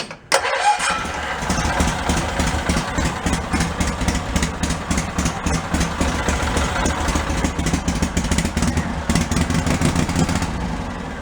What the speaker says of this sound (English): let's fire it up and see what it sounds like